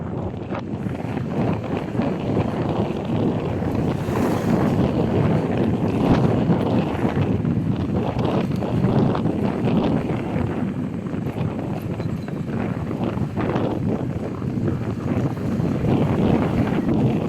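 A small motorboat's engine drones steadily at low tide on the way out to crab traps, a continuous low rumble with wind buffeting the microphone throughout.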